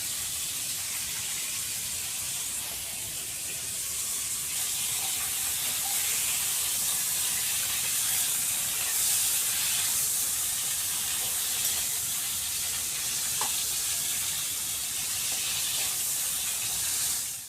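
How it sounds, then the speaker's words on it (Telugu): Wet ingredients spatter and sizzle in hot oil over a high flame, making a steady, dense hiss that runs unbroken and fairly loud throughout, with no talking. "ఇట్లా ఆయిల్లో వేసాక అవి కొద్దిగా తడి ఉంటుంది కాబట్టి అవి నూనె అంతా ఎగురుతుంది"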